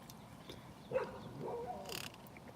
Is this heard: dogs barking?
yes